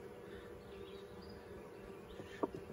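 A steady, low insect buzz hums throughout, like bees around a hive, faint and continuous with a brief soft knock near the end.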